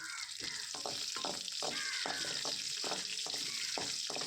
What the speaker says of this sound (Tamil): இஞ்சி சேர்த்து நல்லா வறுத்துக்கலாம்